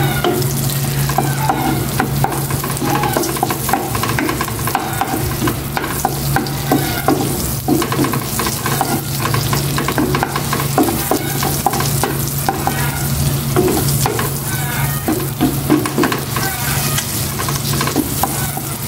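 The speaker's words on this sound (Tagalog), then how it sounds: "Igisa ko muna ng maigi itong bawang sibuyas, tapos ihalo ko siya sa pork and ilagay ko na itong talong" Garlic, onion, pork and eggplant sauté in a hot pan with a loud, continuous sizzle and frequent stirring clatter throughout.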